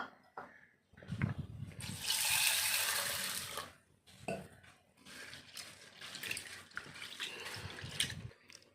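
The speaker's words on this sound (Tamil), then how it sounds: "இதை ஒரு பவுலில் மாற்றிட்டு தண்ணி வச்சு கொஞ்சம் வாஷ் பண்ணிக்கலாம்." Chana dal being rinsed by hand in a bowl of water at a kitchen sink, with close splashing, sloshing and swirling bursts, running tap water and a few clinks of the bowl, no talking.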